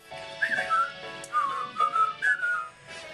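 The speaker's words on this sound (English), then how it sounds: "just purse your lips and whistle" Several people whistle a cheerful tune together during a stage performance of the musical Spamalot, with bright sustained notes in short phrases separated by brief pauses.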